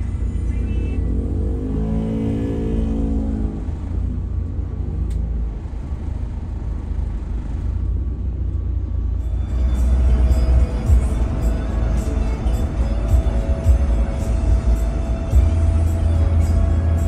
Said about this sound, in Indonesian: jam segini tuh salah satu jam paling ramai ya untuk bus masuk ke Bekasi Timur